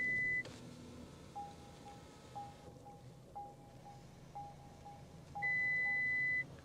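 Start-up chimes in a 2025 Audi A5 Premium Plus: a sustained high tone, then a row of short mid-pitched beeps about a second apart, and a final long high tone, all over steady wind-like background hiss.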